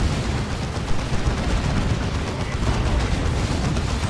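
Phobos unit firing shots in the real-time strategy game Dawn of War 2 during a 3v3 match, a dense continuous battle din of gunfire and blasts at steady loudness with no clear pauses.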